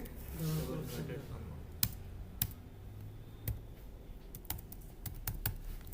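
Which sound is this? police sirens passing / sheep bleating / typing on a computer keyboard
typing on a computer keyboard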